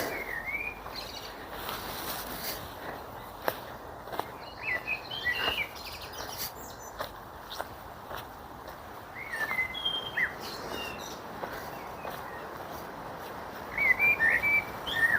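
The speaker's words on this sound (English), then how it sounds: "Do you hear those birds?" Birds sing in Deansgrange cemetery, bright whistled chirps and trills scattered across a soft outdoor background, fairly distant, growing busier toward the end, with no voices.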